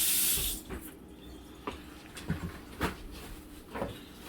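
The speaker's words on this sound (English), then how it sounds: "We'll wash, just rinse my hands off real quick." A kitchen tap gushes briefly, then hands are rinsed under running water, with soft splashes and a few louder wet slaps spaced across the following seconds, close by.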